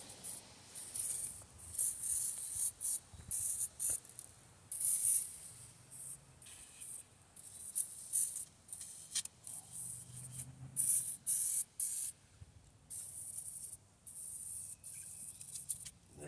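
Aerosol rust preventive sprayed into the cylinders of a flash-rusted engine block before honing, heard as repeated short hissing bursts, some longer than others, fairly close with quiet gaps between them and no talking.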